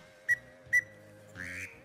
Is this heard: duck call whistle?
yes